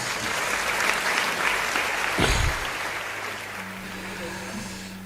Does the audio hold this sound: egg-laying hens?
no